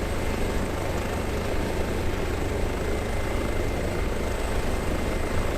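Airbus H145 helicopter in Microsoft Flight Simulator, a loud, constant drone of turbine whine and rotor noise with no pauses and no talk.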